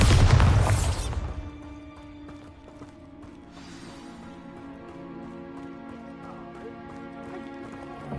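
Bombarda spell explosion in the game Hogwarts Legacy, a loud booming blast at the start that quickly fades into a low rumble under ambient music.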